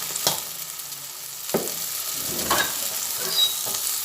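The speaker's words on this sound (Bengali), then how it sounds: "ভালোভাবে আবার মিশিয়ে নিয়ে ভেজে নিচ্ছি" A lentil and egg fritter mixture with ground cumin is stirred and fried in a pan, soft sizzling under a few distinct scrapes of the spoon, close and wordless.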